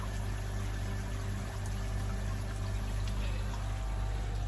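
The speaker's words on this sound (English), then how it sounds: "Back flowing again." Water flowing back out of a shower pump, a steady low rushing and trickling that stays constant and fairly quiet throughout, with no voices.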